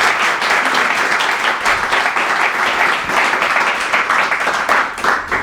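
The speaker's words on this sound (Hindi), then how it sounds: "आइए खुदावंद के लिए फिर जोरदार तालियां।" Loud congregational applause for the Lord during a church service in Sohar, Oman, vigorous sustained clapping from a large gathering with a few stray voices underneath.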